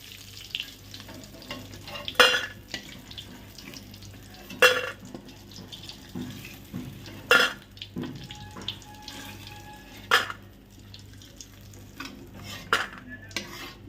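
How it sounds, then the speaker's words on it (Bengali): Lentil dumplings (kalai bori) fry in hot oil, with a low, steady background broken by sharp scraping and clanking strokes of a utensil every couple of seconds. "ওই তেলে আমি দিয়ে দেবো কলাইয়ের বড়ি, একটু লাল লাল করে ভেজে নেব।"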